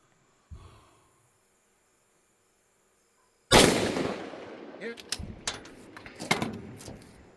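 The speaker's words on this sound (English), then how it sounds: "Then we drop into the prone for the last shot at 638 yards." A single sharp rifle report from a Zermatt Origin bolt action rifle firing prone at a 638-yard target, followed by a rolling echo and scattered clanks and movement sounds nearby.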